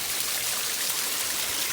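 Water pours steadily over a rock waterfall in a backyard garden, giving a constant, close splashing rush with no pauses.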